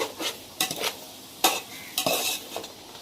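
Chicken biryani masala being stirred in a pot with a spoon, making a few scraping clinks and soft wet stirring strokes in short, irregular bursts, close by.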